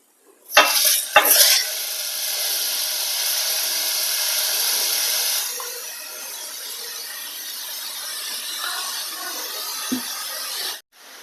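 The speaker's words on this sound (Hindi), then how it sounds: "बराबर चलाते हुए घी में गाजर को अच्छे से भून लेते हैं" Grated carrots sizzling in hot ghee with a loud, steady frying hiss while a spoon stirs and scrapes the pan. The hiss fades to a quieter sizzle partway through, and a few clinks sound near the end.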